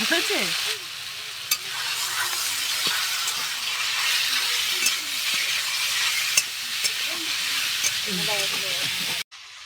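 Chicken pieces dropped into hot oil fry with a strong continuous sizzle and crackle, close and steady throughout, with a few faint voices underneath before it cuts off abruptly.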